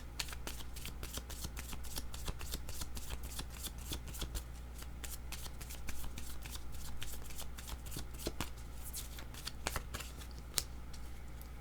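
Tarot cards being shuffled and drawn, with a steady run of quick papery riffles and sharp snaps up close, continuing without pause and with no talk over it.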